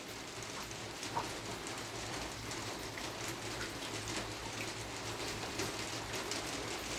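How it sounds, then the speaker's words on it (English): Steady rain falls outside, a constant broadband hiss and patter at low level with no talk, heard from indoors in a room with pet budgies. "It's the rain outside"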